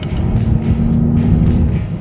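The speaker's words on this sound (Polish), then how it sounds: "ten wydech jest tak zestrojony, że nie przeszkadza swoją głośnością. Po prostu cudownie brzmi." An Audi S8 Plus with a 605 hp quattro drivetrain, heard from inside while driving: a steady, deep exhaust drone with a constant low hum holds at moderate loudness for the whole stretch, with no talk.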